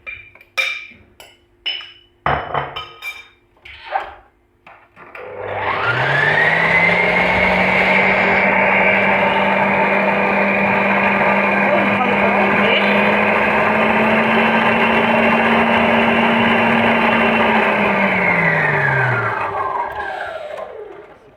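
After a few clicks and knocks, an electric mixer beating butter and sugar for sablé biscuits whirs into a loud, steady whine that holds for about twelve seconds, then slows and spins down.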